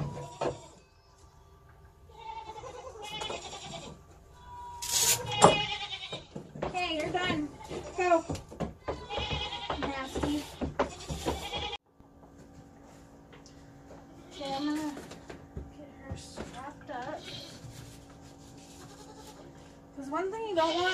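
Goat bucks loose on a farm let out repeated wavering bleats, some loud and close, others softer, with a person talking over and between the calls throughout.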